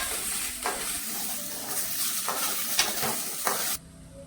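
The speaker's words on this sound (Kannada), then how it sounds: "ಪೂರ್ತಿ ಹಸಿ ಹೋಗೋ ತನೂ ಹುರಿಬೇಕ್ರಿ ಇವು ಟೊಮೊಟೊ ಕಾಯಿ" Green tomatoes fry in a pan for chutney, giving a steady sizzle broken by several spatula scrapes and stirs. The sound cuts off abruptly near the end.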